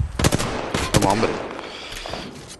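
Enemy gunfire in the battle royale game Apex Legends: rapid automatic bursts and sharp shots, loud and close at first, then tapering off into fainter scattered fire.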